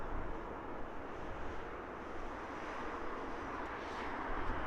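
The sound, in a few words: British Airways plane arriving at Heathrow Airport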